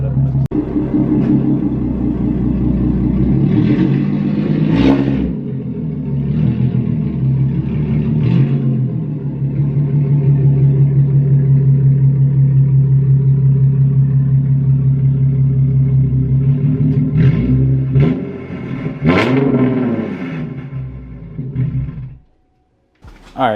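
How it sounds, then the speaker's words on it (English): Infiniti Q50 with an aftermarket exhaust idling, a deep, loud steady rumble close by with a few sharp revs and blips, dropping off briefly near the end. "The idle is probably one of my favorite things about this exhaust setup."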